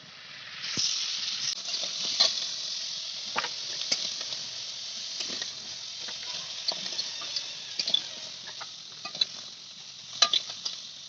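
Freshly caught crab fries in a wok with a soft, steady hiss and sizzle, broken by scattered pops and light scraping taps throughout.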